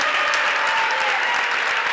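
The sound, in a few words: applause for the futsal team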